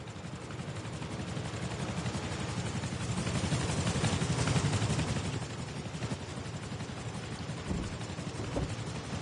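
In the game Rust, a helicopter flies overhead with a steady, chopping rotor drone. It swells to a peak in the middle of the span and then eases off. A few sharp impact sounds follow near the end.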